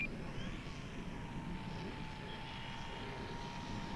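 An E-flite Turbo Timber Evolution RC airplane flies overhead, its electric motor a steady, moderately distant drone with a faint high whine throughout.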